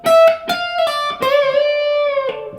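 An electric guitar lick, a quick run of picked notes and then a long held bend that fades. It is close, solo and unaccompanied.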